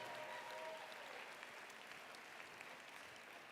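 Crowd applause at a charity gala auction, a steady wash of clapping throughout, fairly distant and soft, with no cheering voices standing out.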